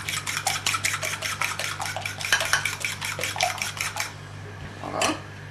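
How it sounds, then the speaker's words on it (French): Eggs beaten with a splash of walnut oil for a Burgundy truffle omelette: a whisk strikes the bowl in a quick, steady run of close, bright clinks for about four seconds, then stops, leaving faint room noise. "Nous rebattons bien."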